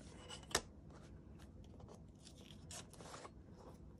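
Scissors snip through a paper junk mail envelope in short, close, quiet cuts, with one sharper crisp snip early on followed by a run of soft slicing and rustling.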